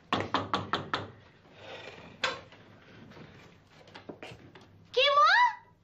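A house door in a Turkish comedy sketch gets a quick series of five sharp knocks, followed by shuffling, another single knock and a few lighter taps, then a voice calls out.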